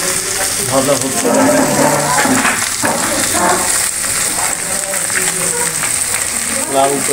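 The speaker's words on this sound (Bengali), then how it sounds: "মাছটা ভালো মতো ভাজা হচ্ছে" Koi fish frying in oil, a loud, steady crackling sizzle with faint voices murmuring beneath it.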